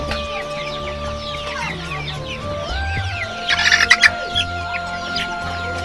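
Golden chickens at a market cluck and chirp close by, a burst of sharp louder calls rising midway over steady background fowl noise.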